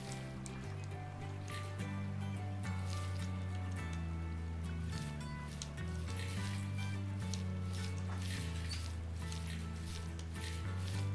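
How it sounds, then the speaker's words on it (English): Gold being washed with water in the Gold Rush video game, a steady wet sloshing and churning of gravel and water with tonal machine or music hum running underneath for the whole stretch. "We're washing gold"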